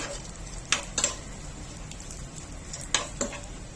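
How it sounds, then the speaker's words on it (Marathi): Raisins, cashews, almond slivers and charoli sizzle in hot ghee in a pan, a soft steady fizz broken by a few sharp clicks and scrapes of stirring. "आपण इथे मनुकी घेतलेले आहेत काजू घेतले बदामाचे काप घेतलेले आहेत आणि चारोळी घेतलेली आहे सर्व तुपावर एक मिनिट परतून घ्यायचंय"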